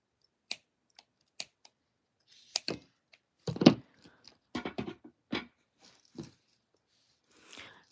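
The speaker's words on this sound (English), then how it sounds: "I'm going to go ahead and cut the tails." Scissors snip the yarn tails of a crocheted Christmas dress ornament, a handful of short, sharp clicks spaced irregularly and close by, followed by soft handling rustles.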